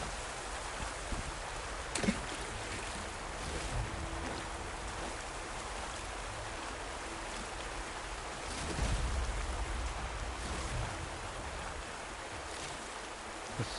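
Steady, broad rushing water from a waterfall in the video game Horizon Forbidden West, a constant dense wash that swells briefly midway, with no talking over it.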